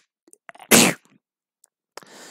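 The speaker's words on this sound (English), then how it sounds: "Once I get the sneeze." A single loud, close sneeze bursts out after a few soft breaths, followed by faint rustling and quiet breathing.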